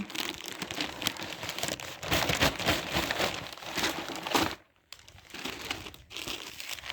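Plastic shopping bag crinkles and rustles steadily up close, with a brief pause before the rustling resumes.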